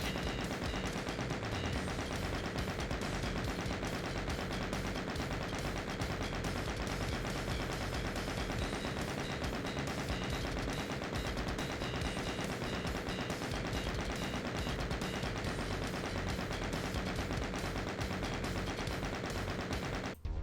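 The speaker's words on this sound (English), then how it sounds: "Don't let go of the fire button, just keep shooting." Unbroken, rapid gunfire from the Doom video game, a steady dense stream of shots holding at full loudness for the entire stretch and cutting off abruptly at the end, with no voices.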